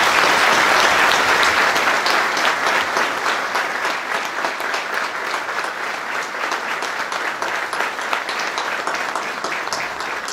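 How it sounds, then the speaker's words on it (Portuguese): Sustained, dense applause from an audience at a municipal anniversary ceremony in Calheta, São Jorge island, honoring the town hall staff, loud and even throughout without voices. "Um enorme aplauso para os funcionários da Câmara Municipal"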